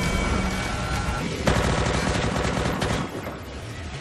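Rapid bursts of automatic gunfire from a Walking Dead episode, loud and dense, continuous volleys with a sharp crack partway, easing slightly near the end, no speech over it.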